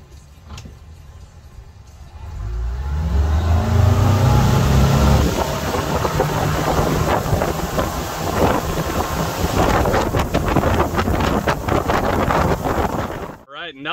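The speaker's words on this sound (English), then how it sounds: "once you put that throttle down, it is pretty much instantaneous. You're up on top of that water and pretty much getting up to cruise speed." A Barletta boat's engine rises from idle into a strong, loud roar as it accelerates onto plane, then settles into a steady drone buffeted by heavy wind noise and rushing water.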